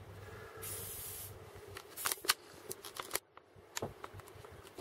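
Short hissing bursts of spray cleaner on parts of a Hilti DD160 E core drill adapter, followed by soft clicks and handling clatter of small parts on a bench, quiet and close.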